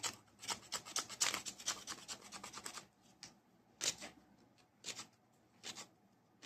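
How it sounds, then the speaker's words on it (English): Rasping scrapes of an archery defletching tool stripping damaged old fletching off an arrow shaft: a dense run of quick strokes, then a few separate scrapes with pauses, close and fairly quiet. "got some fletching damage here, so scrape that off."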